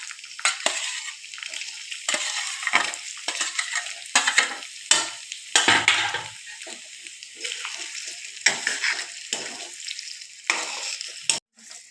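Potatoes fry in a pan with crushed green chilli for sabudana khichdi, making a bright sizzle interrupted by repeated scraping stirs, loud and close, with brief pauses between strokes.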